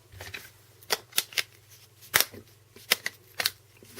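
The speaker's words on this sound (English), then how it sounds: "Cover slide clicks on nicely." The back cover of a BlackBerry P'9982 Porsche Design phone slides and snaps into place with a handful of small, close plastic clicks and scrapes over a faint low hum.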